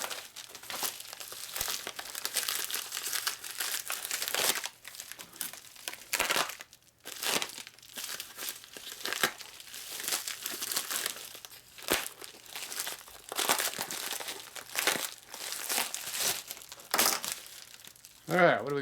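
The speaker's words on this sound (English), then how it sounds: "And that knife is dull. Jeez. More tearing than cutting." A dull knife tearing open a package from an eBay motorcycle-parts order, with close bursts of ripping and crinkling plastic and cardboard, interrupted by pauses and some talk, ending with a short spoken comment.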